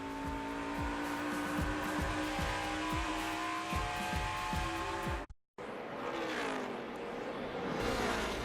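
NASCAR Nationwide Series stock cars racing at Iowa, the Monster Energy Toyota leading the field: loud, continuous engine roar with repeated pass-by sweeps, then a brief cut to quieter crowd-like ambience.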